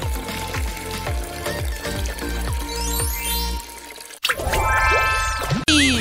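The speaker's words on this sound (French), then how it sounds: "Une douche maison." Pool water runs from holes poked in a plastic bag tied around a shower pipe, a homemade shower splashing and trickling with a rhythmic dripping patter, then sloshing louder near the end.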